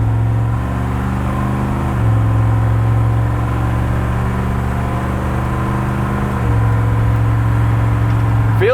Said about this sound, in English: Medium throttle.